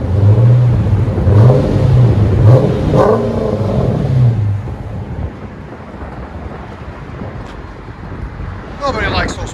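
A Dodge Challenger R/T with the 5.7L HEMI V8 and Flowmaster FX exhaust revs up and falls back in a few close, loud throttle blips, then settles into a deep rumbling idle under steady wind noise.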